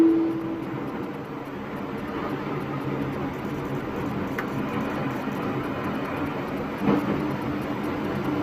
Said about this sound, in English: We've got electric trains up here.